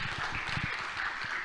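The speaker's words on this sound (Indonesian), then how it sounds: "boleh tepuk tangannya." A short burst of audience applause welcoming someone on stage at a university arts discussion, steady clapping at moderate volume for a moment, with no speech over it.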